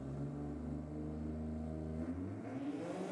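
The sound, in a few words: Ford GT Torino drag car engine revving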